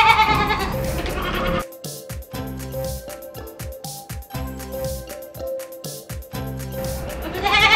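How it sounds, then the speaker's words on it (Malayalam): A Sirohi and Beetal cross-breed goat bleats repeatedly at close range. Loud wavering calls at the start and end frame a middle stretch of shorter, choppy bleats. "ഈ ആട് സിരോഹിയുടെയും ഒരു ബീറ്റിലിൻ്റെയും ക്രോസ് ആണ്."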